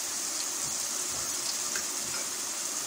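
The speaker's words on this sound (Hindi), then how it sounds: "अब हम इस मसाले को फ्राई करेंगे, थोड़ा सा पानी भी ऐड करके इसको फ्राई करते हैं" Water pours into a tomato masala for potato and egg curry, a steady rushing hiss running evenly throughout at moderate loudness with no talking.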